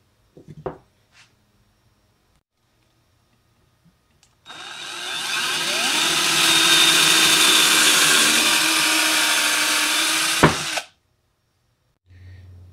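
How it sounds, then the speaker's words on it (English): A Ryobi power drill, running directly from a solar panel, bores a hole in wood at full throttle: a steady loud whine lasting about six seconds after a few faint handling knocks, then stopping abruptly. "let's try drilling a hole in the wood and use full throttle"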